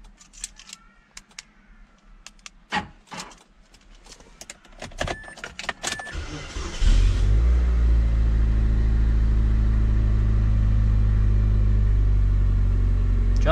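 A used car's engine cranks and catches after an ignition coil replacement, then settles into a loud, steady low idle that runs on. Keys jangle and a few clicks come just before the start.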